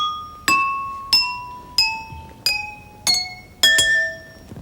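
Water-filled drinking glasses struck in turn with a spoon like a xylophone: seven bright glassy notes stepping downward in pitch, each ringing and fading, the last two struck almost together, close and alone.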